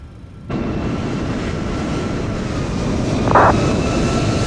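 A United airliner passing by in Microsoft Flight Simulator, a sudden onset of dense broadband jet roar that swells steadily louder, with a short higher tone briefly over it.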